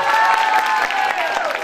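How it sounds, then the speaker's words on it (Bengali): A stage audience at a New Year fashion show applauds a performer, a dense, steady wash of clapping with cheering voices on top, loud and close throughout. "নিপার জন্য জোরে একটা হাততালি হবে"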